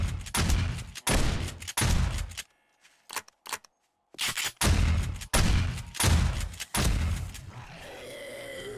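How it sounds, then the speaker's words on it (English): Shotgun turrets in the video game 7 Days to Die fire on a horde night, a string of sharp blasts coming in rapid clusters with a brief quieter lull midway. "The shotgun turrets don't seem to be doing the damage that I remember them to do."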